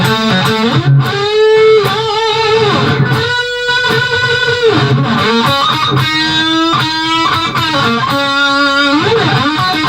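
Electric guitar solo from a song off a band's debut album plays as continuous, dense lead lines with sustained bent notes and quick phrases, loud and steady throughout with no talking.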